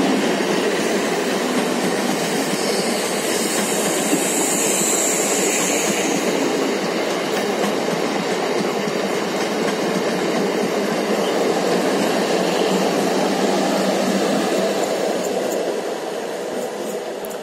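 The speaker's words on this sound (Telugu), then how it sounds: "Train number 17259 Gudur Vijayawada మెము express 4వ నెంబర్ ప్లాట్ఫామ్ మీదకి చేరుకున్నది." Train 17259, the Gudur–Vijayawada MEMU Express, pulling in to platform 4 at a station, a steady loud rolling rumble of wheels and carriages running continuously throughout, easing slightly at the end.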